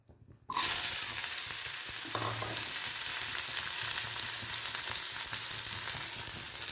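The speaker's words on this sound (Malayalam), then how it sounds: "ഇനി നമുക്കിതിലേക്ക് പാവയ്ക്ക് ഇട്ട് കൊടുക്കാം." Sliced bitter gourd goes into a hot pan and starts frying with a sudden steady sizzle, close and fairly loud. A brief stir is heard partway through, with no talk.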